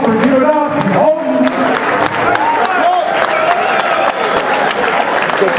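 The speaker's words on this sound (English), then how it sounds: "Let's get a round of applause for Thomas and TFA." Loud, sustained audience applause and cheering fill a hardcore cage fighting event, a dense wash of clapping from a crowd with an announcer's voice speaking over it.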